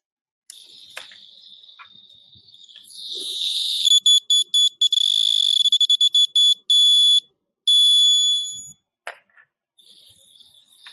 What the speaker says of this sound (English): if I stop it while the sensor is told to be making the noise, it'll keep going indefinitely